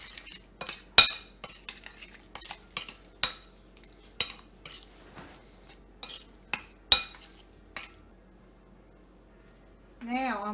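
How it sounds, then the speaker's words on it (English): A spoon scrapes and clinks against a dish as melted butter is stirred into an apple breakfast casserole mixture, a series of sharp, close knocks at an uneven pace, with a voice speaking briefly near the end. "And I'm gonna just mix that all in right now."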